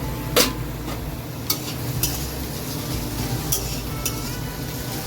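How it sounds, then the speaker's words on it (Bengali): Prawns frying in a pan, a steady low sizzle with a few sharp clinks of a utensil against the pan, close up and moderately quiet. "এদিকে দেখেছি চিংড়া ভাজাটা"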